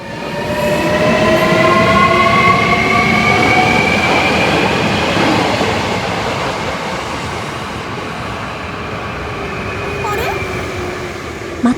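A Hankyu 5300 series train runs along the Kyoto Line, its steady rolling rumble and wheel noise loud and close throughout, with faint tonal squeals from the rails. It eases slightly toward the end, with no talk over it.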